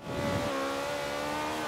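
A BMW i8 fitted with a V8 engine roars in Forza Horizon 3, a steady sustained engine drone that rises briefly at the start and then holds a smooth, even tone, fairly close.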